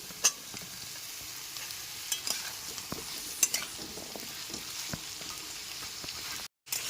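Mixed vegetables (potato, radish, carrot, pumpkin, beans) frying in a pan, a steady close sizzle broken by sharp clacks of a spatula stirring, with no voices.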